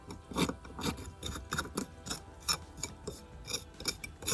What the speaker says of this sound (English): Scraping it down nice and smooth, especially in these wider areas.